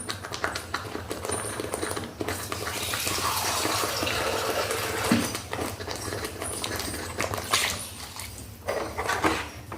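Water trickles and splashes into vada batter with wet stirring and clinking sounds, running unevenly throughout without speech.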